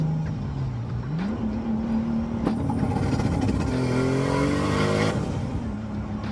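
Toyota 7MGE-T car engine revving loud and close, pitch climbing through a gear then dropping as it shifts from second to third and back, with the engine note rising again afterward.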